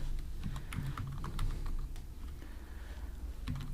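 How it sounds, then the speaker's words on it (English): Rapid typing on a computer keyboard while entering code in an Android app project, a steady run of close, crisp key clicks with brief pauses, no voice. "I'm gonna type here Android"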